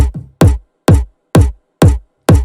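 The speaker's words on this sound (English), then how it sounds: "So I added a top kick, which together made it sound like this." A punchy layered kick drum with a top kick hits five times in a steady rhythm, each with a sharp click on top of a deep thump, loud and close, in a dance remix.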